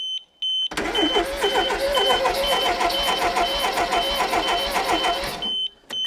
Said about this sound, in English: Immobiliser's making noises.